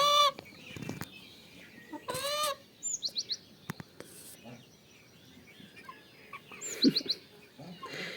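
Backyard chickens cluck and squawk in short irregular bursts nearby, with some brief sharper calls and a little rustling, fairly quiet overall.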